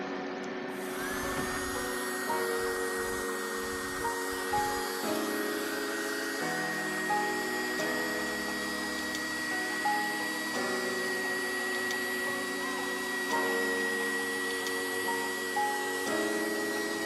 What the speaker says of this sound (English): Now let's test the vacuum power of this vacuum cleaner.